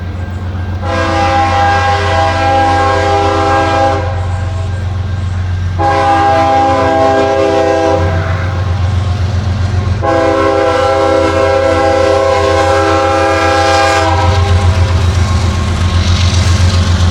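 CSX freight train rolling past on a Georgia line north of Atlanta, its loud horn sounding in long blasts over the constant rumble of the passing cars.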